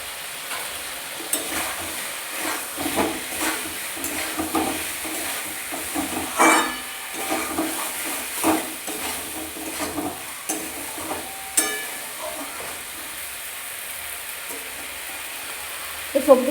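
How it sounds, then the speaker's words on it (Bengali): Vegetables and spice masala frying in a pan, giving a steady low sizzle broken by repeated scraping and clinking stirring strokes throughout, with no voice over it. "তো সব কিছু ভালো করে একসাথে ভেজে নেব"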